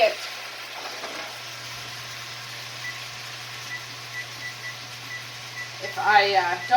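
Food sizzles steadily in a pan at low volume, a constant frying hiss with a faint hum, and a voice briefly rises near the end.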